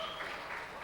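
Brief burst of audience applause welcoming a guest lecturer at a talk, a steady patter of clapping from a crowd heard only for a moment.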